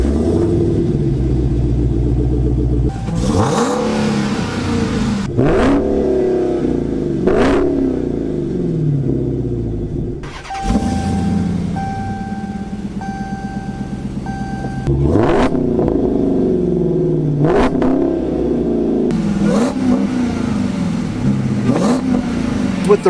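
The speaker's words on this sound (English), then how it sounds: "With the Redeye, it doesn't let you quite rev as much, and I think that's because of the engine" Supercharged Dodge Challenger Hellcat and Redeye V8 engines revving in turn, loud close-up blips and sustained revs with deep rumbling exhaust between bursts, a steady high-pitched supercharger whine during the held revs.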